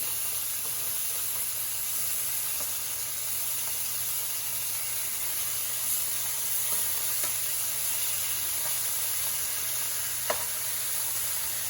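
Teriyaki beef steak rolls with carrots sizzle steadily in a hot pan, a continuous even frying hiss with a few faint clicks and no talking.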